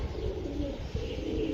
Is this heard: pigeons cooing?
yes